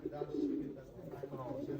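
Soft pigeon coos from Tashkent pigeons kept in a small loft, a low murmuring that runs steadily through the whole short stretch at moderate closeness.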